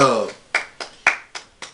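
Six hand claps ring out in a quick, slightly uneven rhythm after a brief voice at the start, each clap sharp and close with a short decay.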